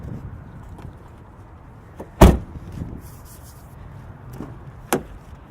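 A flimsy charger compartment door on a 2016 Chevrolet Volt shuts with one sharp plastic snap, followed later by a second lighter click in a quiet car interior.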